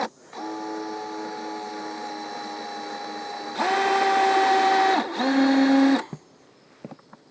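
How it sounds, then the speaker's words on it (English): Screw gun driving screws to mount a fan onto a beehive, a steady loud whirring drone that rises in pitch for two bursts before stopping, followed by a few faint clicks. "I got a screw gun ready, so let's just drill her down."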